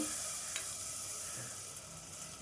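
Jaggery melting in a pan on the stove as a little water is added, giving a steady close sizzling hiss with faint bubbling and a few light scrapes throughout.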